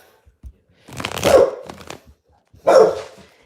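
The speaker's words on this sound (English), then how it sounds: "what are you barking at?" A dog barks twice, loud and close: a rough, drawn-out bark followed after a pause by another sharp one.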